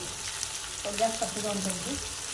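Turmeric, sambar masala and onion-garlic masala sauté in a pan with a soft, continuous sizzle and light stirring sounds, heard close and fairly quiet.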